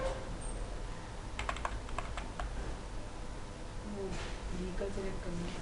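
Computer keyboard in an office, a short quick burst of close key clicks followed by a few more scattered taps, with faint talk in the background.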